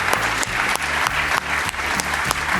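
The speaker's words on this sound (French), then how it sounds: "Applaudissons-les." An audience claps at a graduation ceremony in the French Senate, steady dense applause with a rhythmic pulse of clapping and a slight echo from the hall, loud and close.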